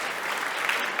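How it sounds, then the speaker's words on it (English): Audience at a conference applauding steadily, a dense, even wash of clapping hands that holds at one level from start to finish with no voices above it. "please an applause for Kelly"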